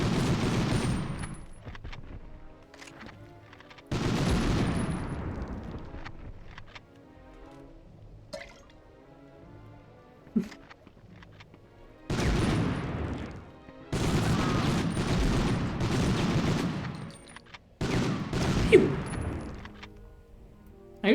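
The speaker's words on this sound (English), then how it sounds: "I just like the explosions." Explosions and gunfire from the 1999 video game Medal of Honor, with loud bursts of fusillade and booming blasts coming in several heavy waves separated by quieter lulls.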